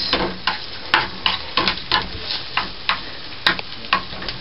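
Onions frying in butter in a pan, a soft continuous sizzle with regular close scraping strokes of a spoon roughly every half second.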